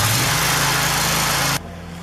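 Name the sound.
General sewer jet engine running at throttle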